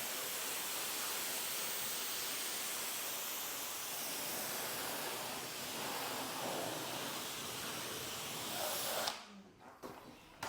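Water spraying steadily over a car to rinse off iron remover, a broad continuous hiss lasting several seconds before cutting off abruptly, followed by a few faint knocks.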